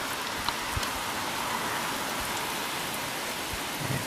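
Steady rain falls outdoors in Nova Scotia during Hurricane Fiona, a dense, even hiss with occasional louder drops nearby. No one speaks.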